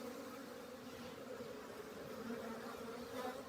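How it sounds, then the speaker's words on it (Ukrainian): A steady, continuous buzzing hum of many honey bees flying nearby on a winter cleansing flight, droning evenly without pause. "Зараз не буду турбувати бджіл, нехай літають."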